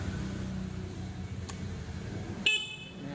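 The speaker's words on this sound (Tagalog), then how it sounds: "Subukan natin yung kanyang busina." A single short horn toot from a Honda Breeze 150 scooter comes up near the end over a low steady hum, close and fairly loud, with no talk.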